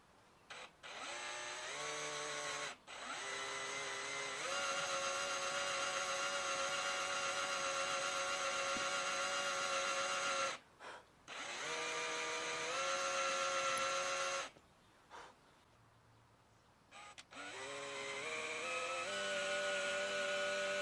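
A power drill bores slowly through a custom T-type guitar body, its motor whine holding steady in long runs with brief stops between holes, fairly quiet and unaccompanied by talk.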